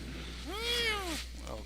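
A cat gives a single rising-and-falling meow, fairly close and clear, over a steady low hum during a card-game stream.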